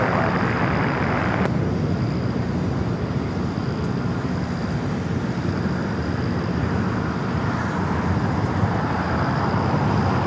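Airplane landing on runway 25 left at LAX, a loud continuous broadband engine and air roar held throughout, with no voices over it.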